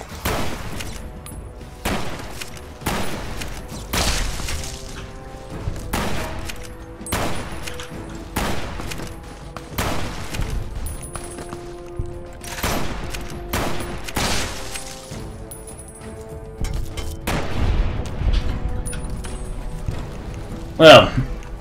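Grenade explosions and gunfire in Fallout New Vegas: a string of thudding blasts and rattling shots repeats throughout, with someone talking over the combat.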